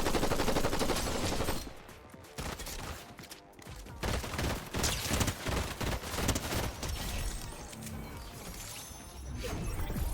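Assault rifle fire from a video game sounds in heavy, loud bursts of rapid shots, with a short pause partway through before dense automatic fire picks up again and keeps going, and no one talks.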